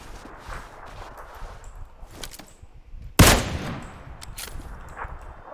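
Gunfire in PUBG PC Lite: scattered shots and clanks, then one sharp, loud hit near the middle that rings off briefly, followed by more sparse shots. No talking.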